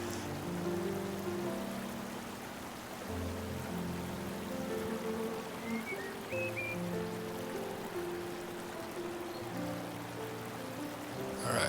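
Gently flowing water runs continuously in the game Babbling Brook, a soft trickling stream with faint overlapping tonal cues and no talking.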